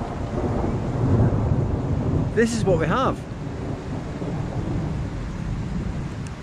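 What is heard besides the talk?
thunderstorm with thunder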